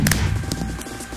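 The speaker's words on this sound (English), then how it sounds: "Why are all these fireworks still going off?" Minecraft fireworks at a New Year's Eve display burst with a few quick broadband pops at the start, then give way to a low, continuous throbbing rumble that fades slightly toward the end.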